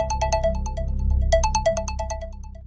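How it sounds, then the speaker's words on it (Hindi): Mobile phone ringtone playing alone, a bright repeating electronic melody of short rhythmic notes, loud and close, lasting a few seconds. "मोबाइल की रिंग बजी"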